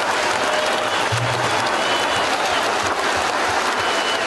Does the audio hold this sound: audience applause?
yes